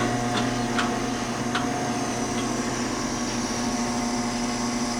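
An Okamoto rotary surface grinder, made in Japan, has its rotary table turning with the hydraulics running, giving a steady, even mechanical hum with tonal whine and a few faint ticks throughout.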